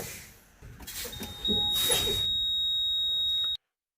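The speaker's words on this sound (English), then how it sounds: "Light and buzzer on before 55 psi." A truck's low air pressure warning buzzer sounds steadily and loudly inside the cab, a continuous high tone that cuts off abruptly after a few seconds.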